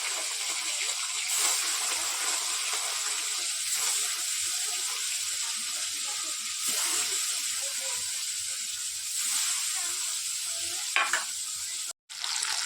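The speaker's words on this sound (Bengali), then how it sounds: "পার্শে মাছ তো বেশি ভাজবো না, তেল হয়েছে, হালকা ভেজে নামিয়ে নেবো" Parshe fish frying lightly in hot oil, a steady close hissing sizzle with soft bubbling that holds evenly throughout, loud and unbroken except a brief cut near the end, no talk.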